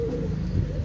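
A Pakistani chuha pigeon gives a low, soft coo, close by in a brief moment with a steady murmur behind it.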